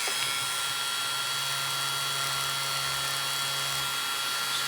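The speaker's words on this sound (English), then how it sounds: "I'll just take my buffing wheel," A buffing wheel whines steadily against a spinning model train motor commutator on a workbench, a constant high-pitched motor hum over a low drone with no talk.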